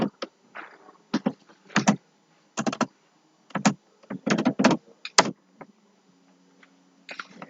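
Typing a command on a computer keyboard, with quiet clusters of crisp key clicks arriving in short irregular bursts and brief pauses between them, close and alone in a silent room.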